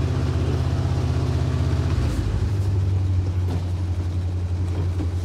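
A 1962 Ford C750 cabover truck pulling out of a snowy driveway, its engine a loud, steady low drone that shifts pitch partway through as it moves off, close and continuous.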